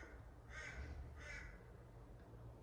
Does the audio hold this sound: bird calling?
yes